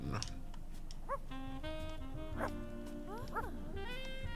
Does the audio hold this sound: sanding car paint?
no